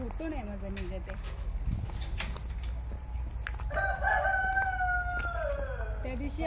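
Chickens on a two-and-a-half-acre farmhouse, a rooster crowing twice in long drawn-out calls with scattered clucks, moderately near, while a person talks over it.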